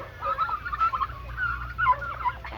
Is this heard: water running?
no